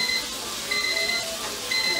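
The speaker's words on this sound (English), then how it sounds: "I hear you beeping back there." Electronic beeping from an appliance in a home kitchen during sheet pan quesadilla prep: a short high steady tone repeats three times at even intervals, faint in the background under a low hum of room noise.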